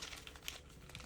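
Foil Yu-Gi-Oh! Maze of Muertos booster packs crinkle in quick, faint rustling bursts with small crisp crackles, heard alone and close but quiet.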